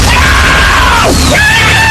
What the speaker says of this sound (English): Better practice your winning scream.